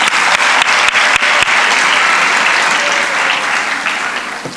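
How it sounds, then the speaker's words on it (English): Audience applause at the Al-Amal Islamic School graduation, a loud, dense round of clapping from a seated crowd that slowly fades toward the end. "Let's give Ruwaida, Ahmed, and Mustafa another round of applause, please."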